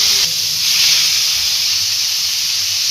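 Silver carp pieces sizzle in hot oil after being flipped in the pan, a loud continuous frying hiss that swells right after the turn and holds steady, with no talking.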